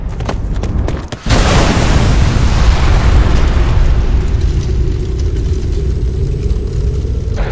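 A bomb blast in the video game Ghost Recon Future Soldier: a sudden massive boom, then a long roaring, rumbling wash of debris that fades slowly, with a thin high whine ringing over it.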